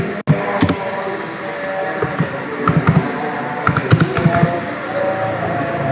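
Keys clatter on a computer keyboard as a command is typed, with quick irregular clicks close up, a sharp keystroke at the start and a dense burst of presses toward the end.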